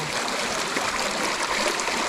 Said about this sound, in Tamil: தண்ணி எத்தனை நாள் அப்படி ஓடிட்டுருக்கு?